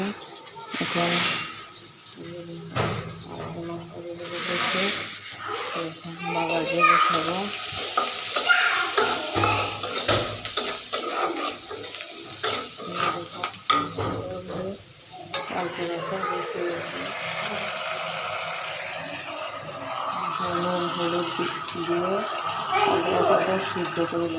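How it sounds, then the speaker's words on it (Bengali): Tomato sautéing with mustard and onion in a pan, a continuous sizzle with frequent stirring scrapes and clatter, voices talking over it at times. "টমেটোকে সরষা দিয়ে পেঁয়াজে কষাতে দিয়েছি"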